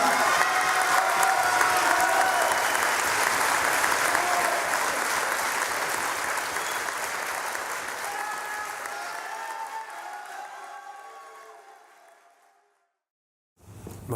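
A large audience applauds at an evening event, sustained loud clapping with some cheering that gradually thins and fades out over about twelve seconds before a short silence.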